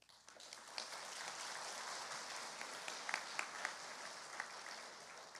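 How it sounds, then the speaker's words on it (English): Audience applause fills a school awards ceremony, with steady dense clapping throughout, a few sharper louder claps standing out near the middle, fairly distant and without talk over it. "You can applaud for each one."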